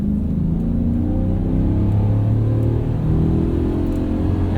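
A Ford Super Duty pickup with the 7.3 engine revs hard, producing a loud, close, sustained engine roar with rising pitch as it accelerates, with no talking.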